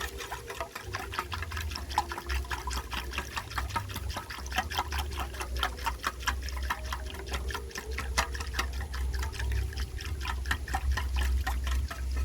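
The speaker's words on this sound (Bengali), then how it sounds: "দিচ্ছি পাতি লেবুর রস ভালো করে সমস্ত মিশ্রণটা মিশিয়ে নেব" A spoon stirs lemon juice through a cold homemade sherbet, a quick, even run of small clinks and liquid swishes repeating steadily and close, with no talk.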